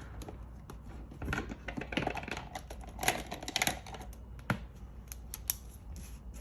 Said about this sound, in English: let me use the X-Acto cutter